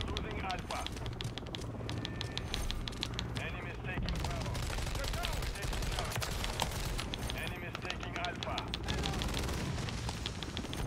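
Automatic gunfire in Call of Duty: Modern Warfare III, rapid dense bursts running nearly continuously and fairly loud, with a player's voice talking over the shooting.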